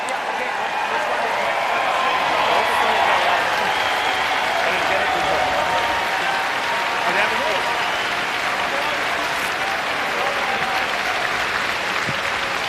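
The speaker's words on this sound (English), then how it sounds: "Team Korea to the rapturous applause." Rapturous crowd applause for Team Korea at a world men's curling championship, a dense, sustained wash of clapping filling the arena, steady and loud throughout.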